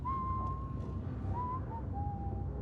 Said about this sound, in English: Your loud whistling.